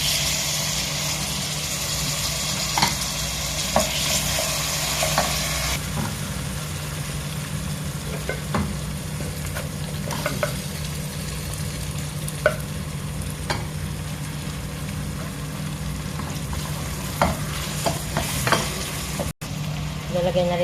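Onion and tomato sizzle steadily in a pan while being stirred, with scattered close utensil clicks and scrapes over a low, constant background hum.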